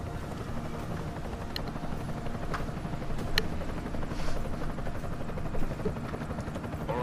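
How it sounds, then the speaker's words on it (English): An enemy helicopter flies overhead in the video game Deus Ex: Mankind Divided, its rotor chopping in a steady, rapid thump over a dense mechanical rumble, loud and close, with a few sharp metallic clicks and no talking. "Enemy helo sighted."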